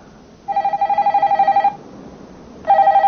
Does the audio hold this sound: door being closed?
no